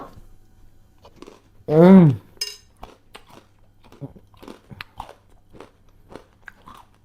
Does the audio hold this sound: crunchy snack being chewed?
yes